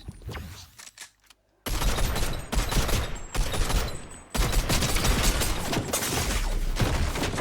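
Rapid gunfire in the Fortnite video game, bursts of automatic shots that stop briefly, then return as dense sustained fire, loud and close with no talk.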